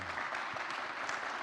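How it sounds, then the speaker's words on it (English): A round of applause for a speaker at the close of a business architecture talk, steady clapping from a modest audience heard at a low, somewhat distant level with no pauses. "Let's give Jeff a round of applause."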